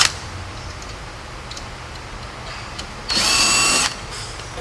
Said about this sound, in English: We'll use our number 30 drill bit, and we'll transfer drill